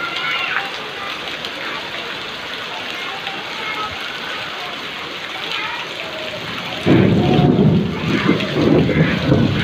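Heavy monsoon rain pours down in Cuttack as thunder rumbles, a dense, steady roar of rainfall that swells louder and deeper toward the end.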